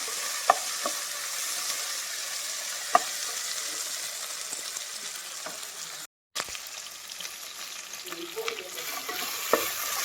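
Ivy gourd frying in a pan over a low flame, a steady soft sizzle with occasional scraping stirs of a spoon and brief knocks against the pan.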